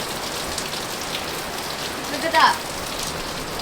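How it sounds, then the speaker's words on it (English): Rain falling steadily on a boat moored in a marina in Montenegro, a dense even patter throughout, with a brief voice speaking near the end. "It's a rainy day."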